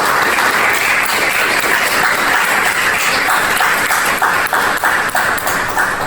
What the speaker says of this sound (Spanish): un fuerte aplauso para Pelayo y Elena.